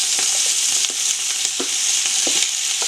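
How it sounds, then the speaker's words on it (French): Sliced onions sizzle in a pan alongside browned sausages, giving a loud, steady hiss up close, punctuated by a few soft stirring clicks, with no voices. "On va rajouter les oignons qui sont émincés."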